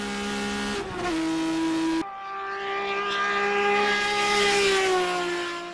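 A Nissan Skyline GT-R KPGC10 six-cylinder engine revs hard and close, its pitch climbing and holding in a rising, high-revving wail with a brief break partway through.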